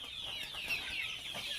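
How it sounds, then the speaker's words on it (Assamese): Farm chickens cluck softly nearby in a short burst of clucks over a quiet morning background, with no one speaking. "চাওকচোন মুৰ্গীবিলাক"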